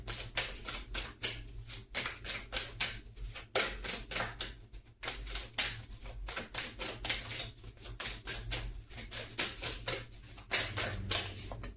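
Cards from a Kundalini Yoga mantra oracle deck are shuffled and drawn, giving a quick run of crisp, close riffling flicks and taps over a low steady hum without talk.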